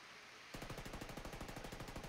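Sustained covering fire from an automatic weapon in Ghost Recon Wildlands starts abruptly after a brief quiet moment, then continues as a rapid, evenly spaced stream of loud, close gunshots.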